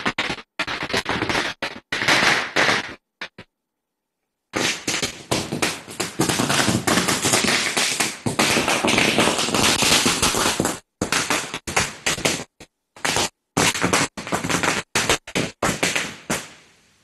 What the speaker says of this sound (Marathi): पतित पावन संघटनेकडनं या ठिकाणी फटाके फोडत जल्लोष केला जातो।